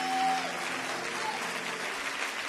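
A church congregation applauding in praise of the Lord, a dense burst of clapping from a crowd that swells at the start and holds steady before tapering slightly.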